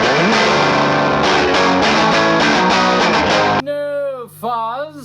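Electric guitar on the edge of distortion with no fuzz, loud strummed chords driving steadily before giving way to sliding, bending single notes that ring out alone.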